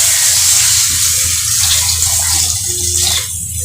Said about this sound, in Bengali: এইবারে দেবো পরিমাণ মতো জল তুলছি, এই জল দিয়ে দিলাম